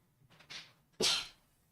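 A single sharp sneeze, preceded by a softer inhaling build-up, close and fairly loud.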